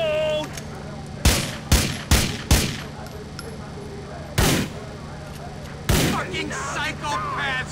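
Gunfire in a Liberty City video game: several loud, separate shots spaced irregularly, some in quick pairs, over a steady low hum, with faint background voices.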